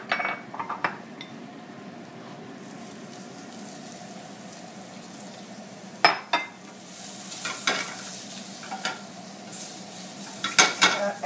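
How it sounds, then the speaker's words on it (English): Shrimp sizzling in a pan for a seafood curry, a steady hiss of frying with occasional sharp clinks and scrapes of a utensil against the pan, close and fairly loud. "I'm going to start cooking my shrimp"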